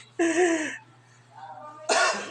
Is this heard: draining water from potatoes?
no